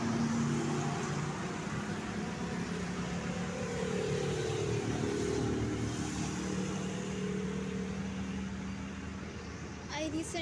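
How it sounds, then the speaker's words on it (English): A constant wash of morning road traffic noise with a low engine rumble, steady and unbroken throughout, heard from a roadside bus stop. "right now I'm again on my bus stop and there is a lot of noise"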